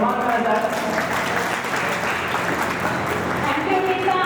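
An assembled audience claps steadily to honour a retiring teacher at a school reunion; a loud, even wash of applause runs throughout, with voices mixed in beneath it.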